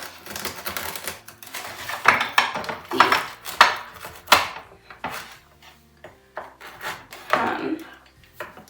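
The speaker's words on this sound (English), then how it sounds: "cut obviously around the edge or push along the edge of the pan to release it" A utensil scraping and pushing along the edge of a baking pan, a series of close, irregular scrapes and knocks with short pauses between strokes.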